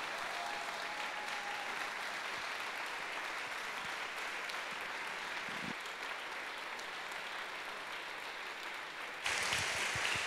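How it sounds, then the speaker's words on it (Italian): Church congregation clapping in a continuous, even burst of applause that fills the room for about ten seconds and swells slightly louder near the end. "vogliamo accogliere con un applauso"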